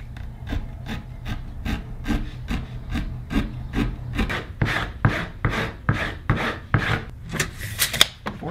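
Hand saw trimming off a piece of a wooden platform, a steady series of rasping strokes close by that grow louder and quicker toward the end.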